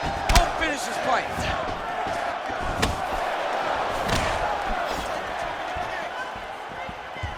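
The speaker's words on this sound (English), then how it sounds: "you hear the crowd react every time they come together because they understand the power that these guys are striking with" Arena crowd in the EA Sports UFC 4 fighting game reacting to heavy strikes, with roaring surges and sharp impact thuds over a continuous crowd bed, while a commentator talks throughout.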